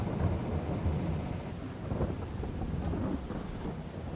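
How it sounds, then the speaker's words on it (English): Steady rain with rumbling thunder in the Farming Simulator 22 video game, a continuous broadband downpour with low booming swells, fairly loud and unbroken, with no voices. "So it's going to be a couple hours of rain."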